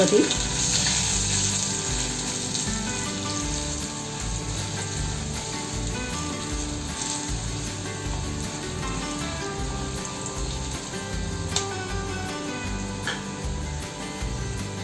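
Turmeric, chili powder and asafoetida sauté in hot oil with a dense, continuous crackling sizzle that stays steady and close throughout, with occasional sharper pops.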